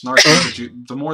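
One sharp, close sneeze bursts out, followed by a brief vocal sound, in a casual indoor hangout.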